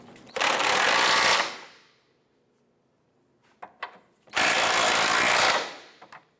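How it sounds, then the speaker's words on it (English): A power tool tightens the front subframe bolts on a 2004-2008 Acura TL. It sounds in two loud, sustained whirring bursts of about a second each, with a few sharp clicks in the near-silent gap between them. "Let's go ahead and tighten down our front subframe bolts here."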